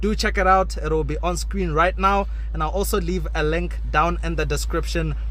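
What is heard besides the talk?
No everyday noises stand out.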